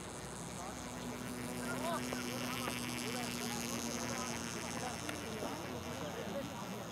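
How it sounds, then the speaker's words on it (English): Continuous buzzing from tape flapping in the wind on the underside of a flying model plane, a steady droning whine heard over wind rush throughout, with a faint engine tone beneath. "that buzzing you hear is not actually the engine, it's the tape on the bottom flapping in the wind"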